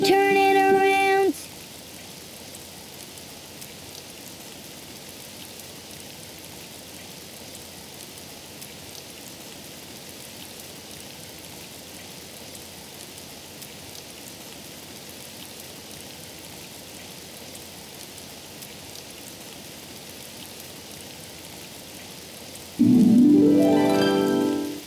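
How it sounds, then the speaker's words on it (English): Steady rain falls outside, a soft continuous patter throughout, with brief tones and singing-like sounds at the very start and end. "It's raining outside."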